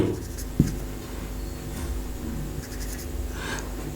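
Pen or chalk writing out an English sentence by hand during a lesson, a light scratchy stroke sound repeating steadily and close, with a soft knock near the start and no talk.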